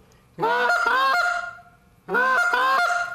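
Goose call blown to imitate a Canada goose long-distance call, two loud honking bursts of rapid, nasal two-note yelps, each lasting over a second, separated by a brief pause and heard close up.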